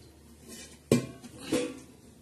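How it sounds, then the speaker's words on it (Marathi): An idli steamer lid set onto a pot, producing two quick metallic clanks, a sharp one followed by a softer one about half a second later, close by with no talk. "याच्यावर असं छानसं इडलीचं झाकण लावणार आहोत"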